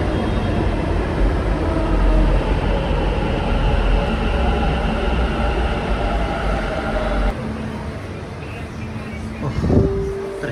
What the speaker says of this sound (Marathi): बघा, माझी आता मेट्रो आलेली आहे.